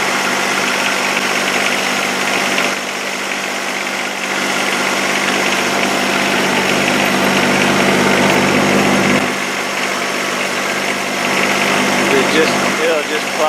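Snow plow engine running steadily while plowing gravel, a loud close drone with a rattling, knocking vibration that barely changes, as someone talks over it.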